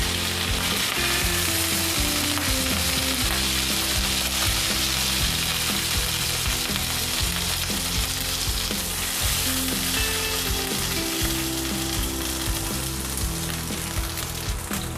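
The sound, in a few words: pork liver frying in a pan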